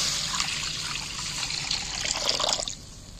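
Water pours into a cooking pot with okra, a close, continuous splashing trickle that runs for a few seconds before tapering off.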